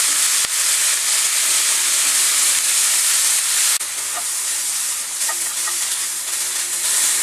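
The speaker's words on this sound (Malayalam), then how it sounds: "ഇതൊന്ന് നന്നായിട്ട് ഇളക്കി കൊടുക്കുക." Vegetables stir-fried with soy sauce over a high flame, giving a loud, continuous frying hiss with a few sharp clicks and scrapes from stirring. No speech.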